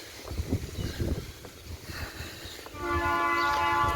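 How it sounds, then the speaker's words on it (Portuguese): A slow train rumbles past close by, its low rolling noise building until a loud sustained horn blast comes in near the end. "Ó o trem, vou ver ele."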